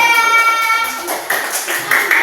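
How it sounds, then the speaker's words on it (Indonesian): A classroom of students claps for a group during a lesson, quick scattered hand claps over a tonal ringing background, with brief voices underneath. "Tepuk tangan untuk kelompok 3."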